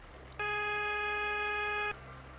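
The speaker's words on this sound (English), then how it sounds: "Air horn." Air horn of a Peterbilt 567 day cab truck in a driving game mod, one steady, loud, multi-tone blast held for about one and a half seconds over a low engine idle, with no talking.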